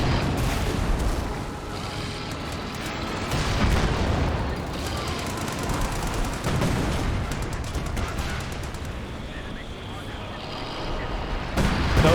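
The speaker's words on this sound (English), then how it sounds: "That looks like a heavy mortar barrage." A heavy mortar barrage in the Company of Heroes 2 video game rumbles on as a continuous wash of booms and blasts, dense and fairly loud, with a commentator's voice talking over it.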